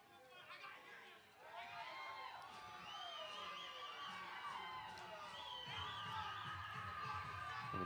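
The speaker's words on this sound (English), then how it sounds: "Some of the McNeese fans making some noise down here" McNeese fans at a college softball game cheer, whoop and shout from the stands, a lively high-pitched crowd din with children's voices, steady and fairly distant throughout.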